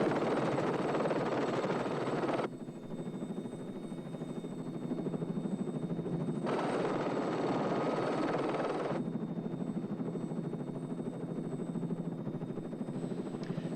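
A helicopter flying low, its loud, continuous rotor and engine drone close and steady throughout, with a sustained whine on top and a couple of abrupt shifts in tone.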